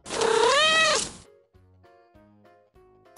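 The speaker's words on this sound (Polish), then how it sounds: "Ryś." A lynx lets out one loud, wavering yowl up close, followed by a few faint, scattered sounds in near quiet.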